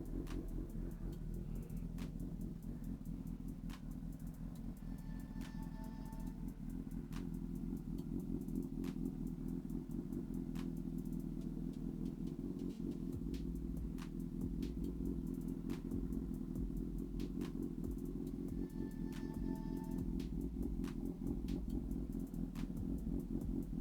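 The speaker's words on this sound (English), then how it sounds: "So let's go ahead and crank it up and see what we are." A 2022 Honda CB1000R motorcycle with a full Black Widow header exhaust runs steadily and loud, a deep continuous rumble held at raised revs for the whole stretch, with no talking over it.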